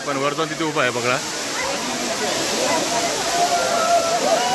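The Malshej Ghat waterfall rushes in a constant broad roar of cascading water, loud and close; someone talks over it at first before the falling water carries on alone.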